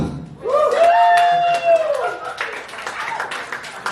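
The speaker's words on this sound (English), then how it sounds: "Everybody clap!" A voice calls out loudly at first, then an audience breaks into scattered clapping that continues faintly.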